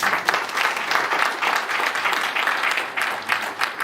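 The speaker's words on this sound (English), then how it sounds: "I want that round of applause" A conference audience at an annual general meeting in Lagos gives a round of applause: dense, steady clapping from a large crowd, fairly loud and continuous, with no talk over it.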